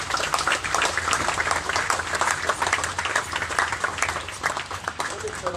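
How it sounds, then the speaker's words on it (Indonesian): Applause from an audience at a political speech, steady dense clapping that fills the whole stretch with murmured crowd voices mixed in. "Tepuk tangan."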